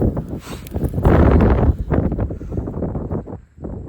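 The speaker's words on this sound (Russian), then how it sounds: "А ветер какой." Gusty wind buffets a microphone, with rumbling low-pitched bursts and rustling, rising and falling over a few seconds.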